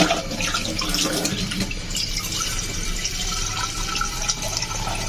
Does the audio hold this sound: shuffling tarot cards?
no